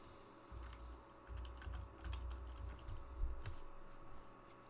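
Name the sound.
typing an amount on a computer keyboard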